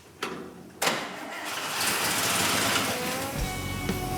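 An old junker car engine, newly filled with fluids, cranks with a couple of sharp clicks, then catches and settles into a steady, fairly quiet running rumble and whir. No one speaks.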